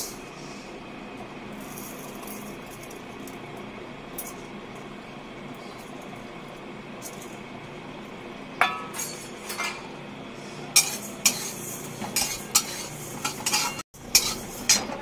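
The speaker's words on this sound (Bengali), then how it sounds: "কড়াইটা গরম হয়ে গেছে, এখন এই মুগ ডালটা ভেজে নেবো।" Moong dal being dry-fried and stirred in a hot wok. A faint low background gives way to sharp clinks and scrapes of a utensil against the wok, which come in uneven bursts during the second half.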